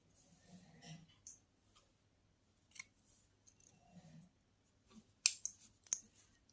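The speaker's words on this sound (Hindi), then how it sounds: "तो देखिए, एक चेन लेके धागा कट कर लेंगे।" Scissors snip crochet thread after a chain stitch on a small crocheted doll dress, a few close, quiet crisp cuts scattered through an otherwise hushed setting with faint background murmur.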